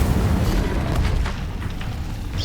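Casting the Incendio fire spell in Hogwarts Legacy gives a dense, roaring whoosh of flame with a booming low body, loud and sustained, fading slightly toward the end.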